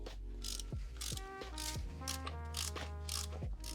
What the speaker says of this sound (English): I'm going to use my long socket.